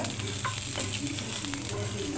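Okra sizzles and crackles in hot oil for okra bharta, a steady close-up frying hiss with occasional clinks of stirring.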